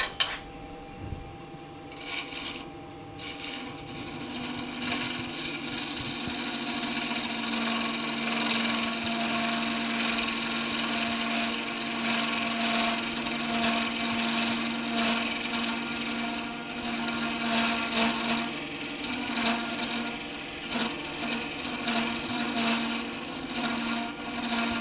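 Wood lathe spinning a salt and pepper shaker blank while an Easy Wood roughing tool cuts: a steady motor hum under a continuous rough scraping and hissing of the cut, close and sustained.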